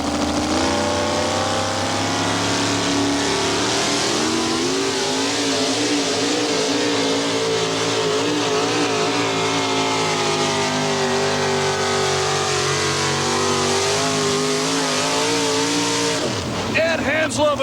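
A Chevrolet four-wheel-drive pulling truck at a 1990 NTPA truck pull in Canfield, Ohio, roars loud and close with a sustained, rising engine drone that climbs in pitch, fading into a brief lower rumble near the end.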